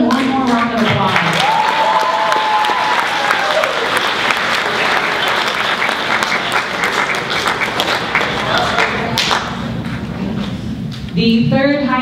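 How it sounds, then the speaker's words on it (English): A large school audience applauds poetry recitation contestants, loud continuous clapping throughout, with a voice briefly heard near the start and again near the end. "Let's give them one more round of applause."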